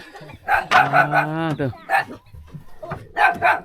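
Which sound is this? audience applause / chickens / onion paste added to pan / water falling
chickens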